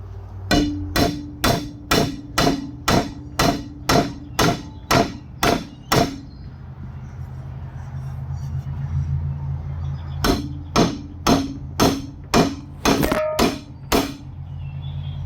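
Steady, sharp hammer strikes ring out on metal in an even rhythm, pause for a few seconds, then resume with another run of blows, during shop metal fabrication for Farmall 350 tractor hydraulic hoses.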